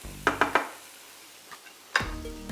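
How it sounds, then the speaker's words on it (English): Mushrooms frying in a pan are tossed and stirred with a wooden spoon: three quick clatters and scrapes, a quiet pause, then another toss as the sizzle returns. "Give it a nice toss, but if you're struggling to do that, just use the wooden spoon, make sure it goes all over the pan."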